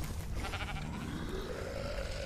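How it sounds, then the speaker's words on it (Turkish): A wild sheep in the ARK survival video game gives a grunting bleat, a short close call over a steady dense game ambience, with no talk over it. "Şimdi yaban koyunu."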